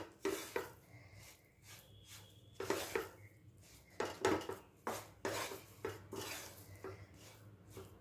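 A spoon stirring and scraping a sweet mixture in a pan, soft close clinks and scrapes in an irregular rhythm, with no voices.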